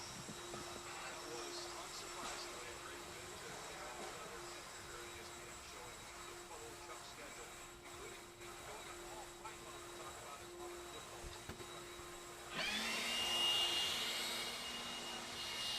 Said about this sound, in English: Hang tight while the blowers are out on the track.